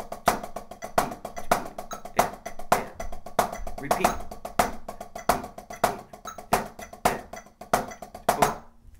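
Drum sticks play an accent exercise of sixteenth-note taps with each accent repeated twice, crisp evenly spaced strokes with regular louder hits throughout, and a voice speaks briefly over the playing.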